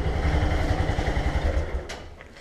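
A motorcycle engine left running while parked, idling with a low, uneven chugging pulse close to the mic, easing off slightly toward the end under a brief clatter.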